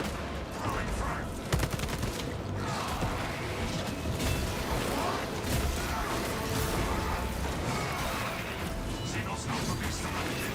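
Frag grenade blast and dense gunfire in a sci-fi shooter game, a continuous barrage of loud crackling shots and bursts with a sharp crash early on, chaotic and sustained throughout with voices over the top.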